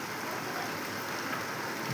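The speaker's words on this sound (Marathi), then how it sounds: "मस्त पाऊस आलेला आहे" Heavy monsoon rain falls steadily and close by, a dense even hiss that holds at the same level for two seconds, with no voices.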